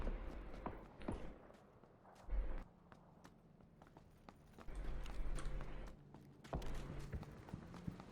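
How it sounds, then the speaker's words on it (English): Footsteps in the PUBG video game, a series of soft, irregular thudding steps that come in short bursts with pauses between, fairly quiet, alongside faint sharp clicks and no talking. "In fact, Imama can probably hear the footsteps as well"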